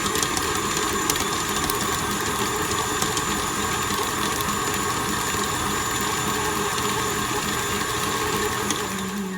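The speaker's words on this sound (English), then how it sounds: "I'm just going to beat it really, really well until it's all blended together." An electric mixer beating softened cream cheese and butter for pumpkin bar frosting, giving a loud continuous motor whir with a gritty churning texture, steady throughout with no talk.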